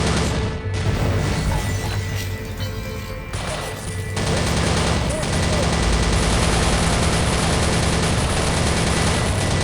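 Rapid bursts of World War 2 submachine-gun fire from Thompson and Sten guns in the strategy game Soldiers: Heroes of World War 2, loud continuous fusillade with booms and crashes of battle layered underneath.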